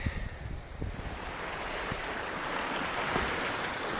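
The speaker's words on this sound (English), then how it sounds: "nice to hear the sea again, isn't it?" Steady roar of sea surf washing against the shore by a harbour wall, continuous and broad, with wind rumbling across the microphone throughout.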